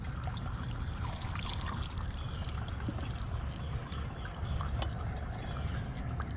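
Gasoline poured out of a Troybuilt weed eater's tank, a steady close trickling stream running continuously with no talk over it.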